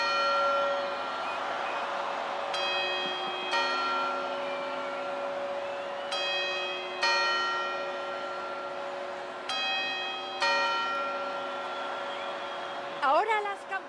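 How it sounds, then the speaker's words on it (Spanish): Clock bells ring the quarter chimes ahead of the twelve New Year's Eve midnight strokes, a series of quick, resonant tones in spaced groups over a steady crowd murmur, with a brief burst of higher sound at the end. "Que son campanadas más rápidas que preparan las 12 campanadas."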